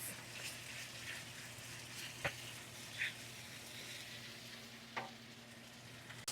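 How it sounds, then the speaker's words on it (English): Beef sizzles in a hot pan with garlic for a stir fry, a steady close frying hiss with occasional sharp pops and clinks of stirring. "We just add our beef in a hot pan."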